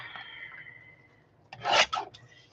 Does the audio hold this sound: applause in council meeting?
no